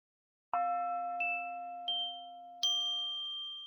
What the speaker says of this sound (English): the pattern that repeats is made up of 4 chimes. 1 gold tube, 2 silver triangles, and 1 red bell